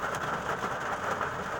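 Heavy rain falls steadily and close by, a dense, even hiss with no breaks and no voices.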